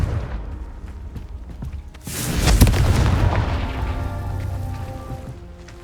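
Hogwarts Legacy video game: a Confringo spell explosion lands as one heavy boom with a deep roaring rumble that swells and then slowly fades.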